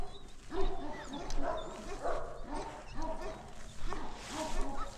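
Several dogs, small chihuahuas among them, yip and bark in short repeated bursts over a steady background din, with people talking nearby.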